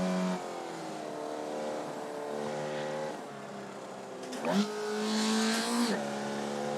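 Formula Vee race car engine in the iRacing sim, a steady buzzing drone that shifts pitch through a corner then climbs hard under power, loud and continuous with no talk over it.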